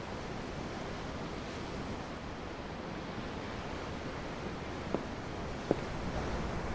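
Steady ocean surf rolls in a broad, even wash in the video game Tales of Arise, calm seaside ambience with two faint clicks late on and no talking.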